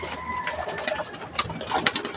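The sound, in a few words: pigeons cooing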